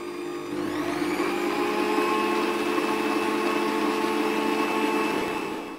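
An old kitchen machine whips 600 grams of cream with a loud, steady motor whir that spins up and runs continuously, close and alone, for several seconds.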